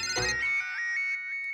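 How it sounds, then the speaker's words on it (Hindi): An incoming call rings out as a bright electronic phone ringtone, a short, loud warbling melody with quick rising and falling notes, heard clearly on its own. "मेरी बीवी का फिर से फोन आ रहा है"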